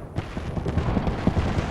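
Gunfire in a video game, with scattered sharp shots and thuds in a busy, steady battle din, fairly close.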